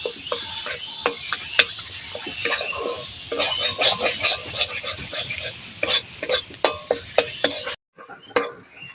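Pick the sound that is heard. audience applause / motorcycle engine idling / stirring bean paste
stirring bean paste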